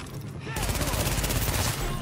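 Rapid automatic gunfire from hip-fired weapons in The Division erupts after a brief pause and continues as a fast, even burst of close, loud shots.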